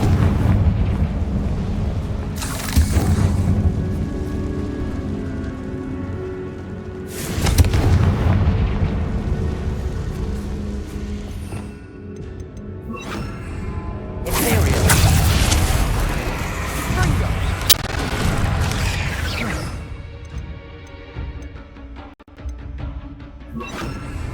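Confringo spell blasts in Hogwarts Legacy sound as three or four loud, fiery explosions spaced several seconds apart, each a booming burst that rolls out amid ongoing battle noise, with brief shouted voices around them.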